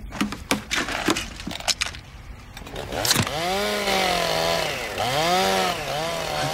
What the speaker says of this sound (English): I thought I told him to bag that chainsaw.